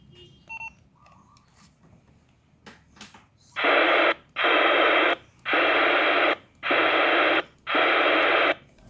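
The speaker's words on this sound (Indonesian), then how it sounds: "itu suara ketika squel dibuka" A Motorola GP308 UHF handheld two-way radio gives faint clicks, then loud bursts of squelch hiss open in five evenly spaced blocks close to the mic.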